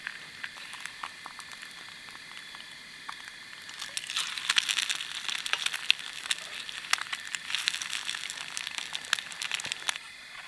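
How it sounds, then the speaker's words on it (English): Breakfast frying in a 120-year-old skillet outdoors, a faint steady sizzle with crackling pops that grows busier and more spattery partway through. "we have breakfast in a 120-year-old skillet"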